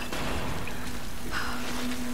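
A waterfall between rocks in Tomb Raider makes a steady, broadband rush of falling water that stays constant and fairly loud, with a faint tonal hum running beneath it.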